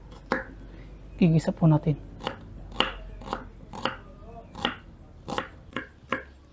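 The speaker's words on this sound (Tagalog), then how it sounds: "Umpisa na po natin maghiwa ng mga rekado natin" Knife chopping onion and garlic on a board for a humba dish, giving sharp, evenly spaced chops about twice a second, with a quick burst of faster cuts near the start, all under a nearby voice.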